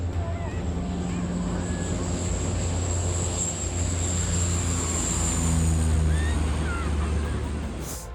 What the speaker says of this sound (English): CL-415 firefighting plane, also known as a water bomber, scooping water from the sea